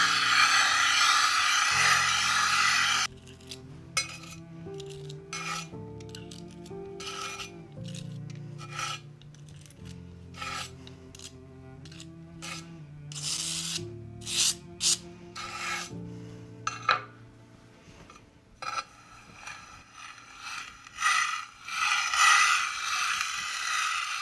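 Oil paint being ground by hand from natural pigment, a dry sandpaper-like rasping scrape in repeated strokes, starting coarse and loud then turning softer and swishier as the paste gets creamier, close up with no talking.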